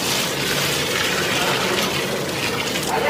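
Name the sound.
water being poured from a bucket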